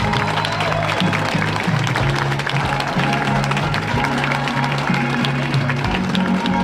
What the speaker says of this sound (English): Ladies and gentlemen, a big round of applause for Sylvain LeDuc,